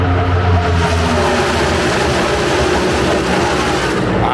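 Race cars roar past at the Talladega 500, a loud, continuous, dense engine wash sustained close by with no break.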